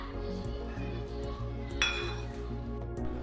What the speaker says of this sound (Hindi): और चलिए आलू को भी मैश कर लेते हैं।